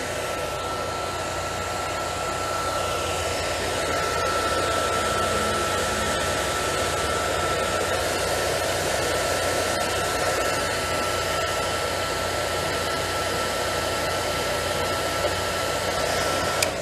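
A hair dryer blows steadily and loudly at close range while drying a watercolor poppy painting, a constant airy roar with a faint whine and no pauses or voices.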